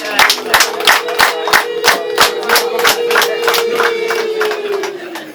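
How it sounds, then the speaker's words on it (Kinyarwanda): At a Rwandan family celebration welcoming a bride, a crowd claps in a steady, rhythmic beat while a long, high ululation rises over the clapping and slowly fades near the end. "Amashyi menshi n'impundu"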